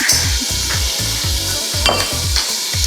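Salmon in cherry tomato sauce stirred in a frying pan, a loud steady sizzle with rhythmic scraping strokes about twice a second, close up and without speech.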